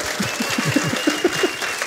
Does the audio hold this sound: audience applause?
yes